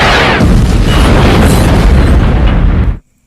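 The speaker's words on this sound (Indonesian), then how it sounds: "Sesaat kemudian kapal itu meledak" A ship blows up in a film scene, a loud roaring explosion with a sharp initial blast followed by sustained rumbling and crackling debris that cuts off abruptly near the end.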